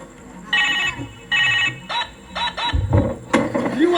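A telephone rings in short repeated bursts, close and loud, followed by a few clattering knocks and low thumps.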